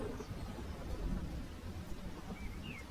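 Steady rain falling in a forest, a soft continuous hiss and patter at moderate distance with no voices and no distinct drops standing out.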